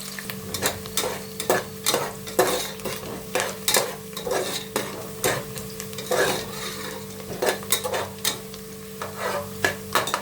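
Onions for avarekalu pulao frying in a pan, with constant sizzling under repeated rhythmic scrapes and clinks of a spatula against the metal, close and fairly loud.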